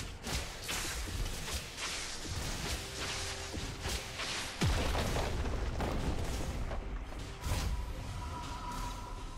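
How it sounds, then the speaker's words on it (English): A turret-destruction explosion in League of Legends, a deep boom bursting out midway through dense, continuous game noise with clashing effects and impacts, loud and close. "Blue team's turret has been destroyed."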